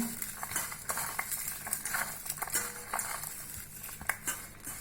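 Ground spices are mixed by hand with salt in a vessel, giving repeated scraping, rustling and soft clinking strokes in an irregular rhythm, close and moderately loud, with no talking.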